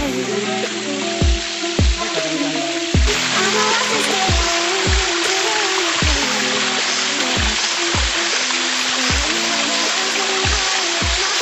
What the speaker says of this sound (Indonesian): jadi telah sampai di air terjun, belum ada namanya